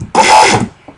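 A short, loud blast of buzzy, heavily distorted synth bass made in Massive, thick and gritty, cutting off abruptly after about half a second.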